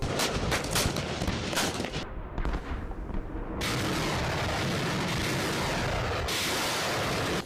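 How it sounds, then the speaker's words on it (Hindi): Bombs and artillery shells from an Iranian military exercise roar in a dense, continuous barrage of heavy booms and blasts, loud and unbroken throughout. "जिसमें चले बम और गोलों की आवाज सुनकर खुद ईरानी जनता खौफ में है"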